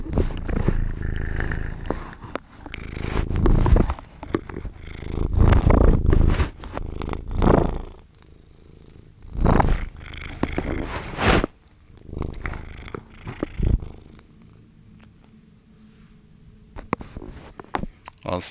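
A cat purrs up close in a steady rumble that swells and fades in waves, with brief gaps and a few rustling shuffles nearby.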